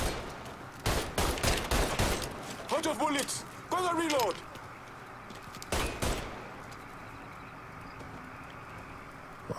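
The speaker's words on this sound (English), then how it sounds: "I'm hearing gunfire." Bursts of gunfire ring out in the Mafia III video game during a heist mission, several sharp volleys in the first seconds and another burst later, with someone talking over the action.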